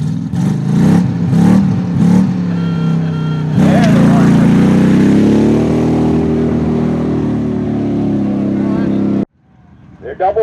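A blue Chevrolet races at a redneck hybrid rally in Richland Center, Wisconsin, its engine roaring loud and close, rising in pitch through hard acceleration before cutting off abruptly near the end.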